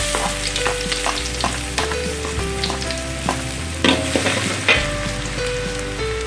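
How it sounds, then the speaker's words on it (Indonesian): Five cloves of minced garlic fry in hot oil in a wok, giving a loud, continuous close sizzle broken by scraping stirring strokes and clatter, with no voices. "Masukkan bawang putih yang sudah dicincang."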